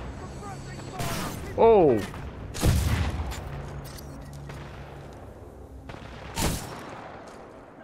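Sniper fire in Titanfall 2 rings out as a few sharp, loud shots spaced over several seconds, each cutting through the rest of the game sound, with a brief startled exclamation from a player between them.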